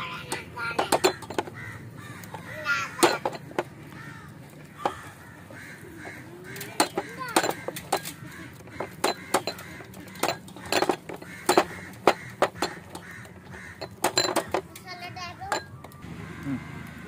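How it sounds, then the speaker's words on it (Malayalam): A spoon clinks and scrapes against a bowl while stirring chicken marinade with yogurt for homemade grill chicken, giving a string of irregular close taps and clatters over a quiet background. "ഇനി നന്നാക്കി ഒന്ന് മിക്സ് ചെയ്ത് കൊടുക്കാം"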